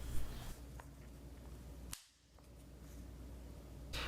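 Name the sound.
function checking Taran Tactical safety on Benelli shotgun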